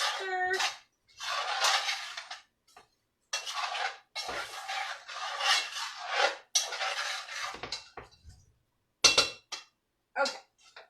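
Browned beef stirred in a pot on a stove over medium-high heat, with bursts of scraping and rasping from the utensil against the pot and short pauses between strokes, close and clear.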